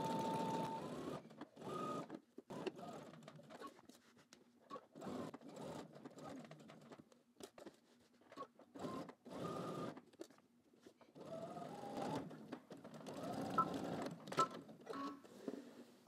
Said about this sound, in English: I'm just going to edge stitch all the way down, pivot at the corner, across the bottom, and then up the other side